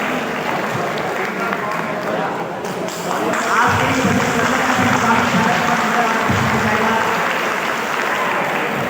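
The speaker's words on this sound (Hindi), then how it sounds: "तालियां बजाते हैं।" An indoor reception ceremony crowd applauds steadily as bouquets are presented, with sustained clapping building after a brief lull and voices talking beneath it.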